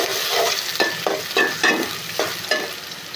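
Chopped onions sizzle steadily in hot oil in a home kitchen pan, with a continuous frying hiss broken by several soft stirring scrapes at an uneven rhythm, close and fairly loud, no voices.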